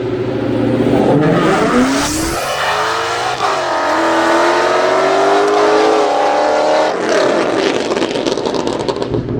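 Two Ford Mustang GTs, an S197 and an S550, accelerate hard side by side under full throttle, their loud engine roars climbing in pitch through upshifts, heard close from inside one car.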